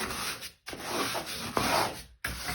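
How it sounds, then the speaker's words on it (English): A brush scrubs a black stain in a bathtub, a steady close rubbing and scraping that runs continuously with two brief breaks where the strokes pause. "I'm taking the brush and I'm giving it a good scrubbing."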